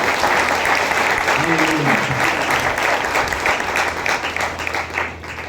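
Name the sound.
audience applauding to thank the Lord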